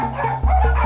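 A rescued dog gives a short bark-like yip, close and fairly loud, heard alone without talk.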